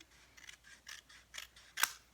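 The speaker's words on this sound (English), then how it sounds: "I'm going to grab my scissors and I'm going to cut off this little triangle that I marked at 11 1/4." Scissors snip through scored paper card in a craft project: a run of short, crisp cuts spaced about every half second, ending in one louder, sharper snip, close and alone with no talking.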